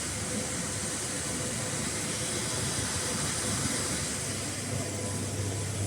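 An automatic high-speed KN95 mask machine with a packing unit runs continuously, giving a steady, even mechanical hiss and whir with no breaks, fairly close.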